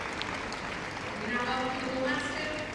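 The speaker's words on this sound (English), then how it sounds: "And a big cheer for the boxer coming in now." A crowd at the Crufts dog show cheers and applauds steadily as a boxer enters the ring, a dense wash of noise with faint voices and a tonal call threading through it.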